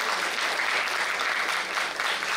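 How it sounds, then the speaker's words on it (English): A hall audience at a medical institute lecture breaks into a steady round of clapping, a continuous even patter of many hands at moderate volume with no voices over it. "But give a big clap to the DIY party."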